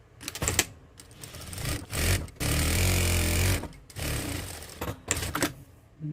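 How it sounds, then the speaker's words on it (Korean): A sewing machine stitches a garment seam straight down to the hem, running in several close, steady bursts with short pauses between them. "이제 밑단까지 쭉 박음질을 한 번에 시작을 해줄게요"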